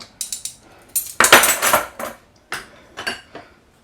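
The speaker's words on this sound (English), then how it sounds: "just mix my dry ingredients" Dry pancake ingredients are stirred in a bowl, with metal utensil clinks and scraping against the bowl in irregular close taps and a longer rattling stretch, no talking.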